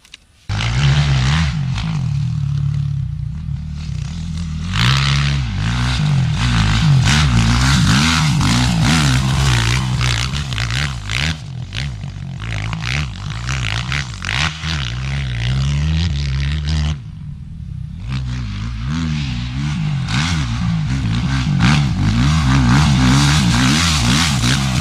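A motocross motorcycle rides a sand track, its engine revving and droning continuously up close with repeated rising and falling throttle sweeps and a brief dip partway through.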